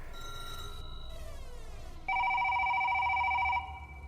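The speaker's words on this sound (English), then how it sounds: "The phone rings at Mildred's house." A telephone rings in a house, with an electronic warbling ring tone and a brief sweeping chirp, then a louder sustained ring burst, heard alone and fairly close without speech.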